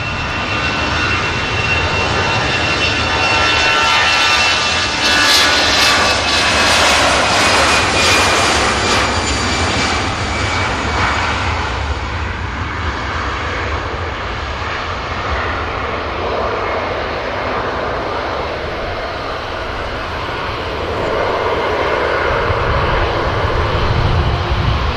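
An ITA airliner landing at Manchester Airport gives a loud, sustained jet roar that peaks with a hissing whine as it passes close, then eases into a steady rumble, with no voices.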